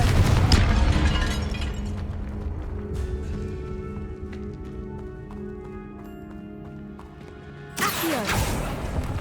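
A Confringo explosive spell bursts in Hogwarts Legacy, a sharp blast at the start that rumbles and rings off over several seconds, followed by a second burst near the end.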